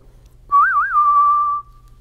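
One person whistles a single sustained note close by, opening with a wavering warble and then holding steady for about a second before stopping, with no talk over it.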